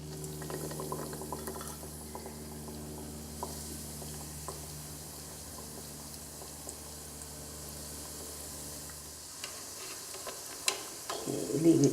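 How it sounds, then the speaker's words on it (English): Breaded pork cutlets for tonkatsu deep-fry in a frying pot of oil at 350 degrees: a constant bubbling sizzle with a low hum underneath, then a few clinks and clattering handling sounds near the end. "I'm gonna fry it about 8 minutes, 4 minutes each side"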